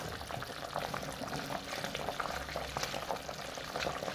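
Matooke green bananas boil in a pot with a soft, steady bubbling and faint crackle, low in level and close by.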